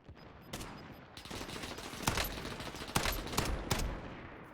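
Gunfire in PUBG: a fusillade of separate sharp shots in an irregular burst, some louder and nearer than others, over a low ambient background.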